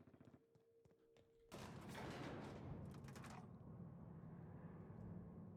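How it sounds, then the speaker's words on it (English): In the video game The Outer Worlds, after a quiet mechanical lead-in, a dense burst of rapid gunfire erupts and continues loud and rattling, settling into a noisy rumble. "Gunfire."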